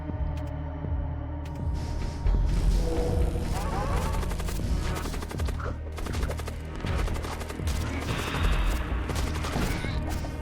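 Spaceship weapons in Void War fire in rapid, overlapping volleys, loud rattling bursts over a low hum, with a voice speaking briefly in between.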